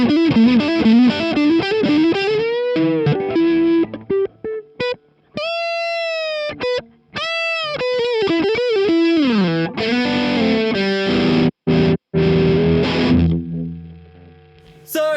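Overdriven electric guitar through a chimey Choptones VOCS 30C1 AC30-style amp rig, mixing gritty chords and ringing single-note bends, with brief pauses between phrases.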